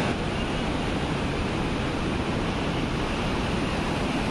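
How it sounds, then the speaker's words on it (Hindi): Two Himalayan rivers rush together at Vishnuprayag below a temple, making a loud, unbroken roar of churning water with no break or change. "अब मैं दिखा सकता हूँ आपको कि यहाँ पर 2 नदियों का संगम है।"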